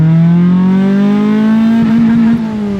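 A cheap Honda Civic hatchback pulls hard under acceleration with torque steer, its engine close and loud, the tone climbing steadily and smoothly throughout with no talking.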